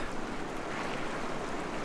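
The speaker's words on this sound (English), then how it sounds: "Just need some relaxing water noise and some shade after last night." Steady, continuous rush of flowing water at Yellowstone, broadband and even throughout, with no voices.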